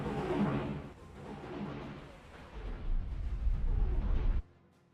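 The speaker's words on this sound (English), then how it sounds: "Oh my god, that's so many heavy ion cannons." Heavy ion cannons fire in the space game X4: Star Wars Interworlds, a dense, rumbling barrage of layered blasts that swells loudly and cuts off abruptly near the end, with no talking.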